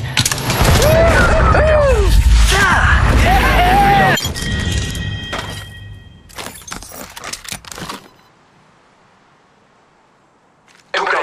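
Rapid bursts of gunfire and impacts crackle loudly in Apex Legends Mobile during a multi-squad firefight, dense and chaotic for several seconds, then thinning to scattered shots before a final sharp burst, with in-game voice callouts mixed in.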